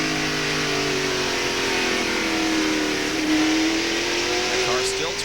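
A NASCAR stock car at Martinsville in 1992 holds high revs near 8,500 RPM, its engine a steady loud drone with rising pitch sweeps as it passes, while a commentator talks over it.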